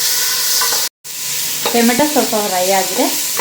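Tomato frying in a pan, stirred steadily, with a loud, close sizzle and scraping spoon strokes, broken by one brief gap near the start; no talking.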